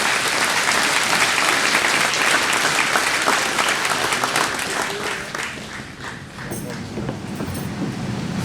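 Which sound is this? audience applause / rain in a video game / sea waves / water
audience applause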